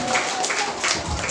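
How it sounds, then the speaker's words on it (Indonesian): Brief applause from the audience at a madrasah graduation ceremony, scattered clapping that rises and dips under lingering crowd murmur for a moment. "Kasih tepuk tangan juga."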